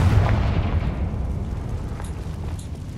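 A Confringo fire spell going off in a Harry Potter video game: a single deep, booming burst at the start that rolls off into a rumbling, fading tail.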